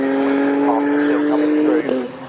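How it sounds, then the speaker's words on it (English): A race car at an endurance championship round at Snetterton circuit drives past with a steady engine drone that shifts pitch as it goes by, heard under a commentator's voice. "as the third place car goes through"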